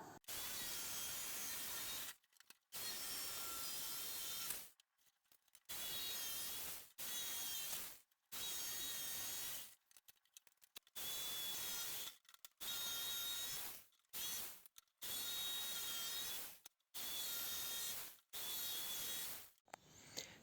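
Hand saw cutting through plywood in repeated strokes, each rasping burst lasting a second or two, separated by short pauses; close and steady in rhythm.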